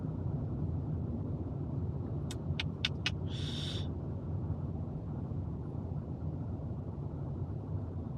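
Slow traffic on the SLEX expressway at Alabang, northbound: a steady low rumble of idling and creeping cars runs throughout, with a few sharp clicks and a short hiss in the middle. No one speaks.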